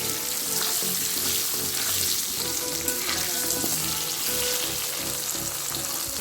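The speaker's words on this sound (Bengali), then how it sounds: "দেখো আলুটা কেমন সুন্দর লাল লাল করে ভাজা হয়ে গেছে" Turmeric-coated potatoes fry in a pan of hot oil while a fish curry is cooked, giving a steady, loud sizzle with crackles and a few scraping stirs running throughout, with no talking.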